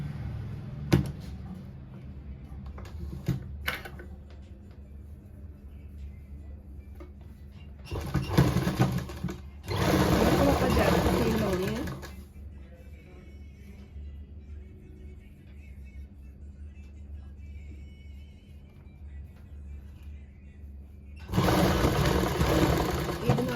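Domestic sewing machine stitching a straight seam to attach lace to folded fabric, running in three separate bursts, the longest lasting a few seconds, with quiet handling noises between.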